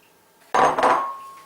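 A single sharp clatter of a utensil against a mixing bowl as cocoa powder and flour go in for double-chocolate cookies, followed by a short fading metallic ring in an otherwise quiet kitchen.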